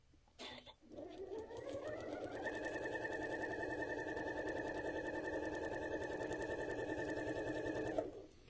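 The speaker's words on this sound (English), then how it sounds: "Now I'm going to go over and sew on the line between" A sewing machine stitches a patchwork fabric seam. It starts with a brief run-up, then settles into a steady, close, humming whir for about six seconds before stopping.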